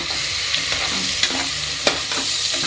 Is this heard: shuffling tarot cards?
no